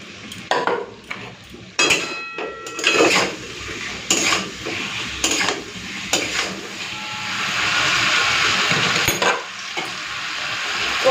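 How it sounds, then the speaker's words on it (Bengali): Fried potatoes sauté with spice paste in a pan, a steady sizzling hiss broken by repeated scraping and stirring clatters of a spatula against the metal. "আলুটা দিয়েও কিছুক্ষণ একটুখানি কষে নেব,"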